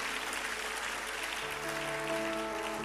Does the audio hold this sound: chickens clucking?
no